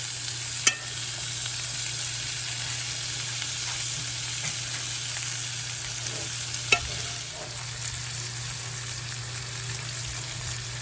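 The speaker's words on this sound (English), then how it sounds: "I'm just going to add a little bit more butter down there so that butter can melt" Butter melting in a pan, giving a steady, fairly quiet sizzle with a couple of brief clicks, no one talking.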